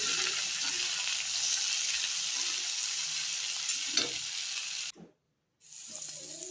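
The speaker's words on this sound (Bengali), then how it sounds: "সবজিগুলো তো হালকা নুন দিয়ে আরও ভালো করে কষে নিতে হবে, যাতে সিদ্ধ হয়ে যায় আলু, গাজর, ক্যাপসিকাম" Potato, carrot and capsicum sizzle in a pan with a little salt while a utensil stirs them, a dense steady hiss with scraping; near the end the sound cuts out briefly, then resumes.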